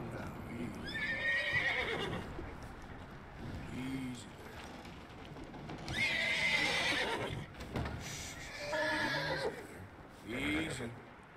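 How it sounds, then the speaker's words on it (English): A horse in the video game Red Dead Redemption 2 whinnies several times in shrill bursts, with clip-clop hoofbeats, while someone talks calmly over it. "Nice looking horse."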